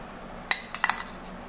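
A few light metallic clinks of cutlery against dishes while a school tiffin box is filled with potato fry, paratha and semolina in a home kitchen, four quick taps clustered together then quiet.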